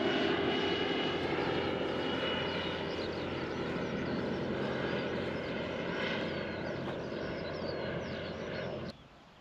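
A propeller aircraft drones steadily close by as it circles and comes in to land, a loud, even engine hum with a layered tone that holds throughout and drops off sharply near the end.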